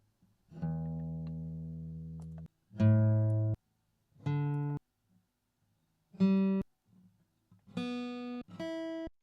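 An acoustic guitar's open strings are plucked one at a time with a plectrum, miked at the sound hole: six clear, ringing notes, the first sustained longest, the rest shorter and separated by brief silences, close and fairly quiet.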